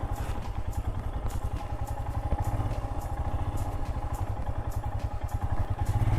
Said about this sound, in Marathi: इथे बाईक जरा सांभाळून चालवा, खड्डे खूप आहेत